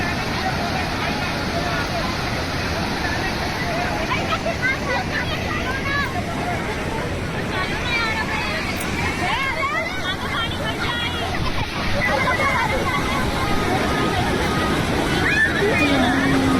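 Fast-flowing water pours over a waterfall in a dense, continuous roar that stays loud throughout, with a murmur of crowd voices mixed into the rushing noise.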